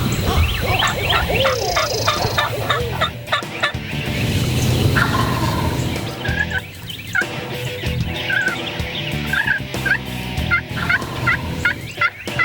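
Wild turkeys gobbling from the roost in Georgia woods during a spring hunt, with repeated loud rattling gobbles firing off from several birds at different distances, some close and some farther away, over faint background birdsong.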